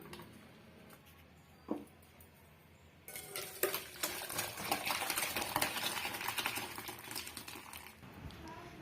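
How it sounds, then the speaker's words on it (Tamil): Eggplant and lentil sambar being mixed in a pot, a spoon scraping and clinking steadily against the metal for several seconds after a quieter opening, close and fairly loud with no voice over it. "இப்போ இதை வந்து நல்லா மிக்ஸ் பண்ணி கொடுத்துக்கலாம்"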